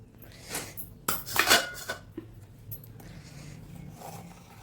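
Knife sliding under idli to lift them off an oiled steamer plate, a few close metallic scrapes and clinks, the loudest burst in the middle, then quieter rattles.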